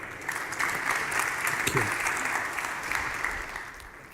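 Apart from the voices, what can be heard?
audience applause for panelists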